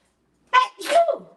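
A single close, sharp sneeze in a home kitchen during cooking while limes are being juiced, a quick intake followed by a forceful burst, heard alone with no talk.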